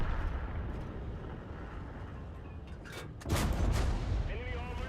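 Tank cannon fire in World of Tanks from a Strv 81, a heavy booming shot that breaks out partway through over a low rumbling engine bed, fairly loud with a voice in the background.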